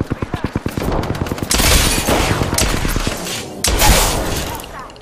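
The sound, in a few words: gunfire in Apex Legends video game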